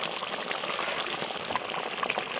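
Rohu fish in mustard curry with slit green chillies simmering in a covered pan, a steady soft bubbling and hissing boil, faint and continuous with small pops, no voices.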